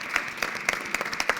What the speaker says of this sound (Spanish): Les agradezco la atención y les pido un aplauso